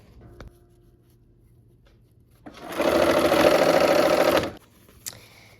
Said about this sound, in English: we're gonna nest these seams and sew the rows together